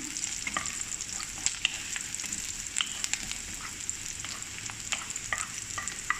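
Onion and garlic frying in a pan for chicken liver, a steady close sizzle broken by frequent sharp spatters and stirring clicks.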